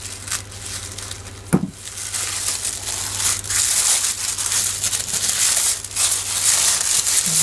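A package is cut open for Christmas in July banners, a sharp snap followed by continuous crinkling, tearing and rustling of packaging material, close and moderately loud with no talking.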